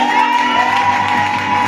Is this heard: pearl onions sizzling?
no